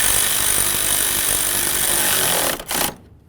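A power tool runs a bolt tight on a 2009–2020 Dodge Journey during timing belt work, a loud continuous whir that stutters briefly near the end before cutting off into quiet.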